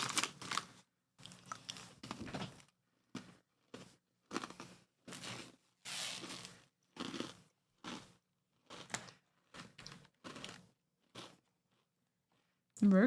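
Bite after bite of waffle-shaped graham crackers, crisp crunches and chewing in short irregular bursts separated by silent pauses, close to the microphone, with faint talk at the end.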